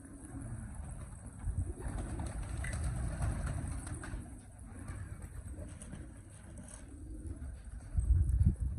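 Pigeons in a loft or on a rooftop, faint cooing and shuffling sounds under a low background rumble, with some quiet human voice nearby.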